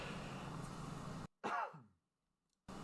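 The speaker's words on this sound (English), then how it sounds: "excuse me for coughing" A man at his desk gives a single close, brief cough and throat clear that breaks the quiet room tone and then fades into near silence.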